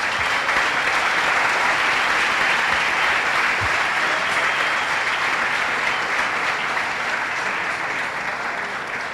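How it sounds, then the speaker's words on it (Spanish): An audience at a film festival panel discussion gives sustained, steady applause that fills the room evenly for about nine seconds, tapering only slightly at the end, with no speech over it. "Los recibimos con un fuerte aplauso,"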